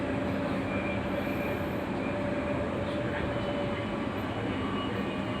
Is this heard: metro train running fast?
yes